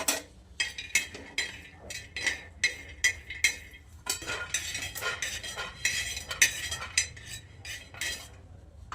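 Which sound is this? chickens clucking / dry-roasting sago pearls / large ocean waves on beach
dry-roasting sago pearls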